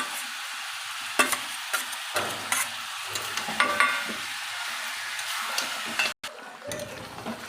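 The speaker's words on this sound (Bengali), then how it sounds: "আদা জিরে দিয়ে ভাজা ভাজা হয়ে গেছে" Ground ginger and cumin paste fries in a pan with steady sizzling, punctuated by repeated spoon scrapes and taps as it is stirred, close up, briefly dropping out near the end.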